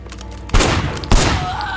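Gunfire in Sleeping Dogs: two loud, sharp bursts of shots about half a second apart, each one ringing out with a crackling tail over a low background hum.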